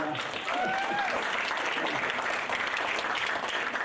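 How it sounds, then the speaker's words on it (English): Concert audience applause at a winter benefit concert in a theatre, fairly soft but steady dense clapping, with a voice briefly audible near the start. "you're probably clapping"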